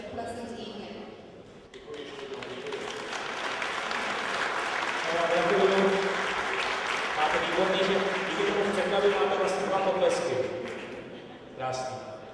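A crowd at a corporate event at Toyota Tsusho Praha applauds steadily for several seconds while a voice speaks over the clapping.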